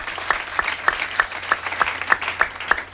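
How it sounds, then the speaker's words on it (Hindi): Audience at a motivational talk applauding together in a steady rhythmic clap, about nine even beats over a few seconds, moderately loud with no talk. "जोरदार ताली आप सबके लिए।"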